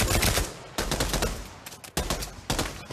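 Rapid submachine-gun fire in the WW2 shooter Pavlov VR, heard as several loud back-to-back automatic bursts with brief gaps between them.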